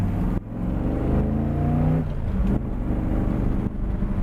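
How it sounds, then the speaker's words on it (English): 1958 Chevrolet pickup with a worked 327 V8 and Saginaw 4-speed driving, engine rumbling up and down through revs and gear changes with short dips between pulls, close and loud, no talking. "we're taking this old Chevy pickup out for a ride"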